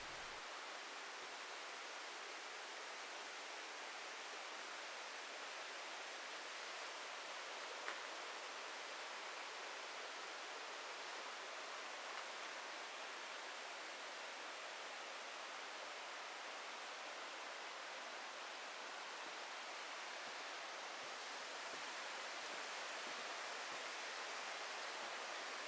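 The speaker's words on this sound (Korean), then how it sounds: "비파담 위쪽에서 바위 한반을 타고 흐르는 폭포들이 구천동 계곡의 제20경인 다연대입니다." Waterfalls pouring over a broad rock slab in the Gucheondong valley stream at Deogyusan, Muju, a continuous soft wash of rushing water, even and unbroken throughout with no voices.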